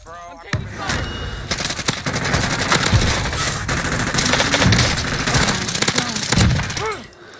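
Sustained bursts of automatic rifle fire from a Krig 6 assault rifle in Call of Duty Warzone, rapid close shots layered with distant gunfire and impacts for several seconds, with a voice talking faintly underneath.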